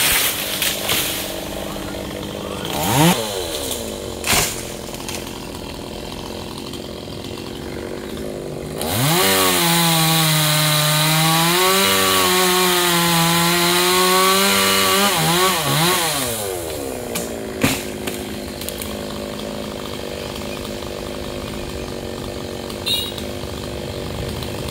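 Branches of a large khaya tree are cut with a chainsaw, which idles and blips briefly before a sustained loud, close cutting run with rising and falling engine pitch, then settles back to idle with voices nearby.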